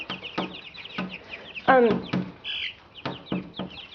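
Chickens clucking near a broody hen raising chicks of mixed breeds, with a run of short clucks and one louder, rising squawk partway through, then more clucks and a brief chirp.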